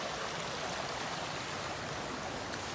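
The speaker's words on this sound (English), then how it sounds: "you can hear the water." River water flows past a mossy woodland spot in a steady, continuous rushing wash, close and even throughout with no voices.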